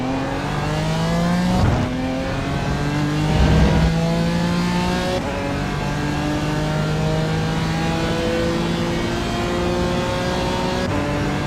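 GT4 race car howling at full throttle in iRacing at Road Atlanta, with a loud, sustained engine note rising and shifting through gears, plus a couple of brief louder bursts, and no talking.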